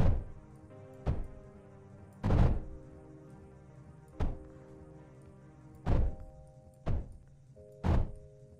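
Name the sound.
turrets firing in the video game Mindustry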